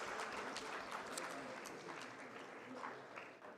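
A large audience at a startup summit applauds for the winning startups, a steady dense wash of clapping with scattered cheers that holds for several seconds and eases slightly toward the end.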